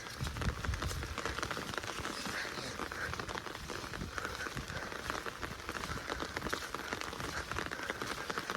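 Steady, dense rain pattering on a surface, continuous and fairly loud, with no voices.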